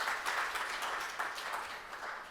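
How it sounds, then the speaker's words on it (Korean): At a public solidarity fund's annual report event, an audience claps in a soft, continuous patter that sounds distant and quiet, holding steady for a couple of seconds with no talk over it. "박수 한번 부탁드리겠습니다"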